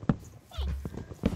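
Horse sounds from Minecraft: a few hoof clops and a short whinny, close by, mixed with bits of speech.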